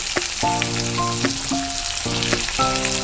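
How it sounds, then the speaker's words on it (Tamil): Chopped onion, garlic and turmeric frying in oil, a loud, continuous sizzle with bright tonal notes recurring over it for a few seconds. "கட் பண்ணி வச்சுருக்க வெங்காயம் பூண்டும் சேர்த்துக்கலாம்."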